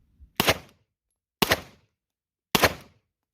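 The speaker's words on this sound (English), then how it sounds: "I'm going to shoot a few shots here with that lower grip" Three sharp Canik pistol shots fired with a low grip, each a loud crack with a short decay, spaced roughly a second apart, with silence between them and no talking.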